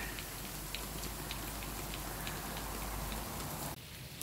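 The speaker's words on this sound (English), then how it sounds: "just turned on the sprinklers out here" Garden sprinklers spray water inside a DIY greenhouse irrigation setup for orchids and tropical plants, giving a steady, close, rain-like hiss that shifts in tone near the end, with no talking.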